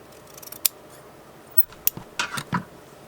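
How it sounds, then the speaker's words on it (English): Scissors snip through a piece of fabric-covered junk journal board in a few separate close cuts, with sharp clicks of the blades followed by short rasping slices, no talking. "So I'm going to cut that off."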